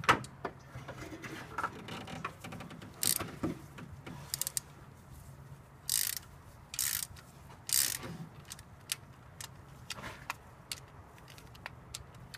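Ratchet wrench clicking as 10 mm valve cover bolts are tightened on a car engine, short bursts of close, crisp ratcheting separated by pauses.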